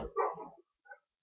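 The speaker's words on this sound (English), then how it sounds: "Right when my dogs wanted to say hi to someone." A dog gives a short, quiet bark followed by a fainter yip a moment later, heard indoors at low volume with no talking.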